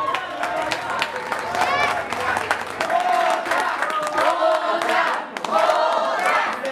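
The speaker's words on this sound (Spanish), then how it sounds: "Un aplauso para el mariachi, por favor." A crowd cheers and claps for a mariachi band at a fifteenth-birthday party, with loud sustained applause and shouting that runs through the whole stretch and some voices calling out within it.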